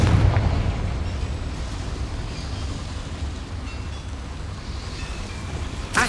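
Confringo fire spell explosion in Hogwarts Legacy, a heavy booming blast at the start that rolls into a long, loud, low rumble sustained throughout, with a final thump at the end.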